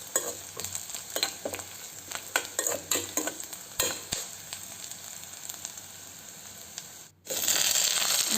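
Boiled drumsticks frying in oil with curry leaves in a home kitchen for a drumstick fry. The sizzle is close and steady, and repeated stirring scrapes break through it. Near the end the sizzle suddenly grows louder.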